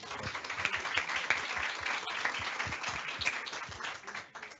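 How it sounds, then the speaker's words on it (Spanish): Applause from the audience at a talk on gender equity in Chile, a moderate crowd clapping with distinct individual claps audible throughout, steady and fading slightly near the end. "Maravilloso, un aplauso"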